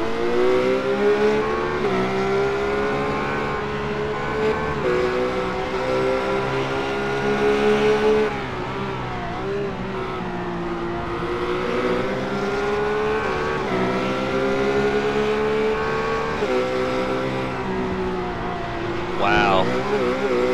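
Race cars in iRacing at Interlagos roar with sustained high-pitched engines, shifting pitch as they brake and accelerate through the chicane, under steady commentary from a speaker.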